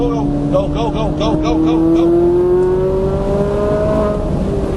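A sports car, a Ferrari 458 Italia or Nissan R35 GT-R, accelerates hard on a Las Vegas race track, its engine note climbing steadily and loudly through the revs, close and continuous.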